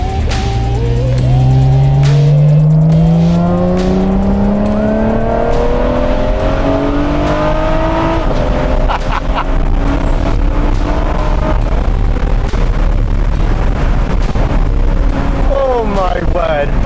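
Loud, close engine of a Ferrari 599 SA Aperta in sport mode, climbing in a long rising rev, dropping through shifts, then crackling and rising again while a voice speaks over it.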